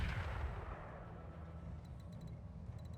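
A large mech's big gun firing an artillery shot in the video game RogueTech, a deep, heavy boom at the start that fades into a low rumble, followed by faint ticking clicks.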